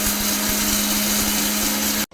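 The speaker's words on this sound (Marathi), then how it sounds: "याला आपण मिक्सरच्या भांड्यातून जाडसर वाटून बघा" A mixer grinder coarsely grinds roasted coriander seeds, fenugreek and black pepper for a raw mango pickle, a loud steady motor whine with grainy rattling that runs nearly two seconds and then cuts off abruptly.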